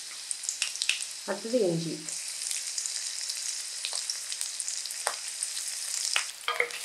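Garlic and ginger frying in oil in a kadai on high heat give a steady, close hiss and sizzle. A voice speaks briefly near the start.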